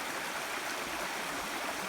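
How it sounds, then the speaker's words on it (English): Creek water rushes steadily at a crossing of Blackwell Creek on the Appalachian Trail, a continuous close wash of flowing stream with no voices. "Now crossing Blackwell Creek."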